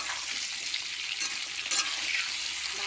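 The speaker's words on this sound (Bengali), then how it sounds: "এবার সজনের ডাঁটাগুলো আমি দেবো, এটা নাড়াচাড়া করে তারপর সব মশলা দেবো।" Drumsticks stirred with fried potatoes sizzle in a hot pan, a steady crackling hiss of frying broken by brief scraping stirs, close and continuous with no talking.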